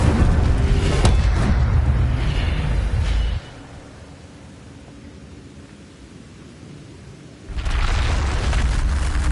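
A loud broadband blast from an Incendio fire spell in a Harry Potter game fills the opening three seconds, drops to a low rumbling lull, then roars back loud near the end.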